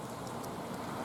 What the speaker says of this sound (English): Little drizzly day today